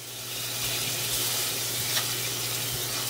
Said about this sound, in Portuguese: fritar bem o alho, deixar ele douradinho